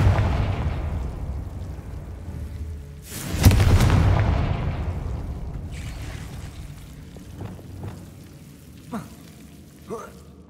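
A single heavy explosive boom from the Confringo blasting curse in Hogwarts Legacy, loud and close, rumbling away over a few seconds, followed by faint scattered thuds and a voice speaking briefly.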